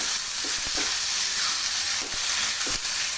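Tomatoes being stirred into a frying egg curry masala, a continuous close sizzle with a few sharp spoon scrapes and knocks against the pan, no talk.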